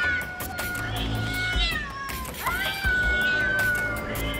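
A mother cat yowls loudly while attacking a snake at the mouth of a burrow where her kittens shelter, with drawn-out, rising and falling wails running almost continuously and no talking.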